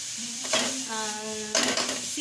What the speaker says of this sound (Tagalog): Hintay natin mag-brown yung giniling.